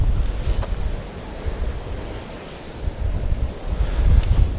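Steady sea waves and gusting wind at Durlston Country Park on the Dorset coast near Swanage, a continuous rushing roar with surges of surf, fairly loud and close, with no talking.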